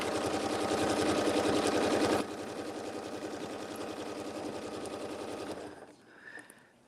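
A sewing machine stitching in the ditch on a hotpad runs close and loud with a fast, steady mechanical chatter, shifting to a slightly lighter pace partway through before stopping near the end, with no talking.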